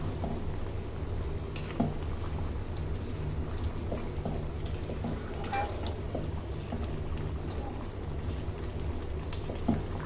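Chicken curry with potatoes in a thin gravy simmers and bubbles in a pot as spices are stirred in, a steady close wash of bubbling with faint occasional scrapes and no talking.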